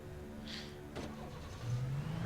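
In the Alan Wake video game, a car door thuds and the engine turns over and settles into a low idle hum, quiet and close, with a faint whirring before it.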